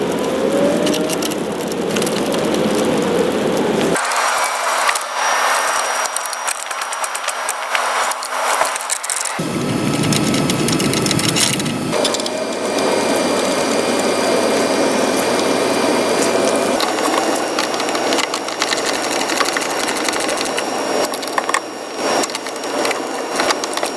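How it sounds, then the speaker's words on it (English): Steel bolt and nut being turned to press a new door hinge bushing into a 1988-1998 truck door, giving steady ratcheting clicks and mechanical grinding, loud and close, with no talking. "So I'm going to start driving that in there. I'll be using the same method again with the bolt and the nut."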